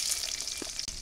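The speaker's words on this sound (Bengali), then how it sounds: "কড়াইতে তেল দিয়ে দিলাম, পেঁয়াজ আর রসুন কুচি," Chopped onion and garlic frying in oil in a wok during village home cooking, a close, continuous crackling sizzle with a small clatter of stirring near the end.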